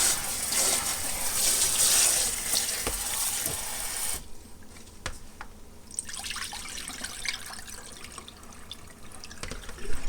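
Hot tap water runs into a sink while farm-picked strawberries are rinsed, loud and steady at first, then cut to a quieter trickle with drips and light clatter.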